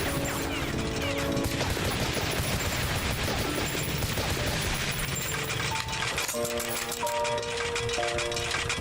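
Dense, continuous video game gunfire rattles in rapid bursts over a steady wash of game music and effects, loud and close throughout.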